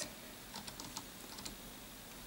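Faint, quick keystrokes on a computer keyboard tap out a short irregular burst of clicks in a quiet room.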